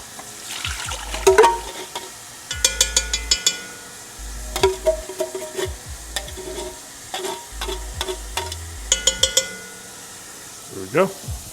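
A spoon scrapes and clinks around a pot of Liberian palm butter soup, with irregular bursts of stirring and liquid sloshing separated by short pauses, close and fairly loud.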